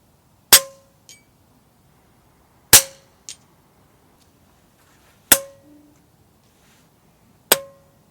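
FX King .22 FAC airgun fired with a screw-on sound moderator: four sharp, clean shots spaced a few seconds apart, each a crisp crack with a brief metallic ring and a small follow-up click, in a quiet setting.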